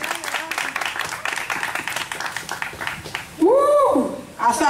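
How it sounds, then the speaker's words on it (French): Wedding guests applaud in a crowd, close and bright clapping under a voice and cheering, with a loud whoop near the end. "Applaudis, applaudis."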